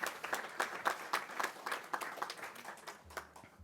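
An audience at a public-policy panel on jobs for people with disabilities applauds the panelists. Individual claps come through clearly in a loose, uneven rhythm, then the clapping thins out and stops near the end.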